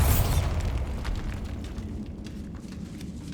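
Bombarda spell blast in Hogwarts Legacy, a loud booming explosion bursting at the start and rumbling away over a few seconds, with scattered crackling debris in a dim catacomb.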